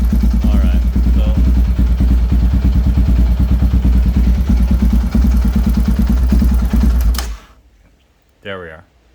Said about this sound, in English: This bike actually idles pretty good.